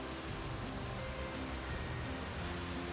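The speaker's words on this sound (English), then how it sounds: "Riley, have you had enough of the beautiful waterfall? Sure love that noise, so relaxing" The waterfall at Turner Falls, Oklahoma, a dense, constant rushing roar of falling water, steady and fairly distant, with no voices.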